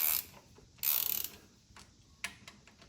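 A 5/8 inch socket on a ratchet turns bolts during a rebuild of an Oliver 550 tractor, giving quick bursts of close, faint clicking with short pauses between strokes and no talking.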